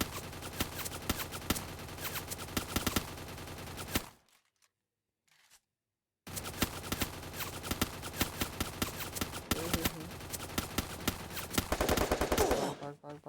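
Rapid bursts of gunfire in the video game Free Fire rattle loud and dense, broken by a short stretch of silence before the shooting resumes.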